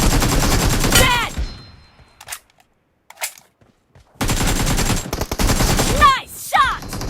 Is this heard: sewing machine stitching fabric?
no